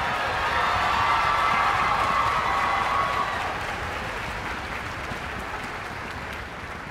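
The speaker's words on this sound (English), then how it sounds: "Let's give them one more round of applause." Steady applause mixed with crowd cheering from a concert audience at a high school music festival, loud and sustained at first, then easing slightly while still filling the hall.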